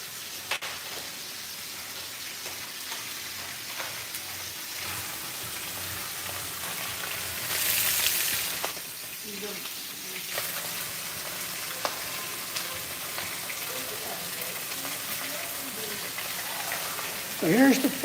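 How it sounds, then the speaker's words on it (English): Fish fries in oil with a steady crackling sizzle, faint and close, swelling briefly midway, while a voice speaks nearby. "So here's the fish that she's frying."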